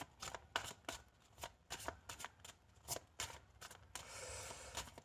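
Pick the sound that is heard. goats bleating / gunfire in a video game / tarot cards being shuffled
tarot cards being shuffled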